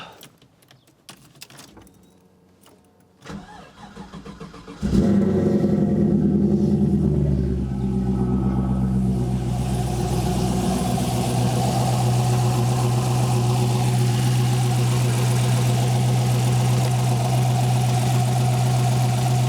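An LT-swapped Trans Am with a 6L80e transmission cranks over after a few quiet clicks, catches loudly and settles into a steady, rumbling warm-up idle that holds constant and close.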